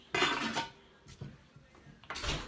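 Magma pots and pans with a fitted lid clatter and clink as the lid is handled, two bright metallic bursts at the start and end with a softer knock between, close and without talk.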